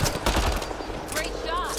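Gunfire in the video game Mass Effect Andromeda, a quick burst of loud sharp shots followed by rapid repeated bursts, with brief synthetic effects and a voice over the action.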